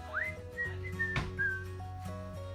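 A person whistles a short melodic tune, the pure tones stepping between pitches over a steady low background hum, with a brief noisy burst in the middle.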